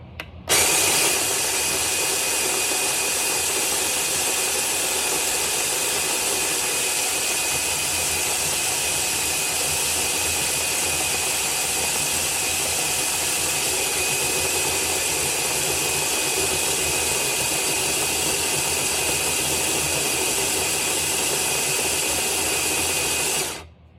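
Electric coffee grinder running through a load of roasted coffee beans on a home roastery porch, a steady loud whirring drone that holds evenly for about twenty seconds before cutting off.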